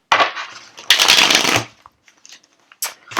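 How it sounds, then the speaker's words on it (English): Tarot cards riffle-shuffled up close in two quick bursts, then a few soft taps and handling noises, with one more short riffle at the end. "Oh, that wasn't a very good shuffle"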